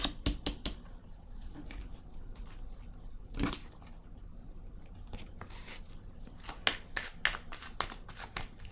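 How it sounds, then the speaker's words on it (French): Playing cards are handled and laid down on a table, a string of sharp close snaps and flicks in irregular clusters, with a soft rustle between them and no talk. "Je vais déposer une carte ici."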